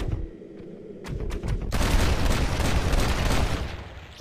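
Gunshots in Red Dead Redemption: Undead Nightmare. Quiet, scattered shots give way to a loud, sustained burst of rapid fire that continues to the end.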